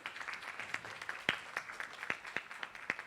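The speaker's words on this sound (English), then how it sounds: "Can we have a huge round of applause" Sparse clapping from an audience at a Twinings new packaging event, a handful of distinct hand claps scattered over a steady room murmur rather than a full ovation.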